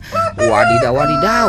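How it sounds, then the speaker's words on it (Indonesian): A rooster crows loudly and close, one long rising-and-falling call lasting over a second, with a voice briefly joining in. "ada ayam berkokok teman-teman."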